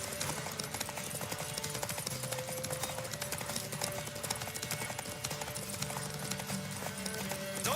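Horse hooves clip-clop in a steady galloping rhythm during a horse race in The Witcher 3, loud and continuous for the whole stretch, with background music and an occasional faint whinny.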